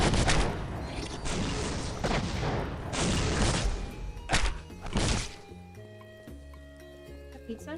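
Launcher explosions in the video game Postal 2 come as several loud, broad bursts in quick succession over the first five seconds, then give way to quieter tonal game music and effects.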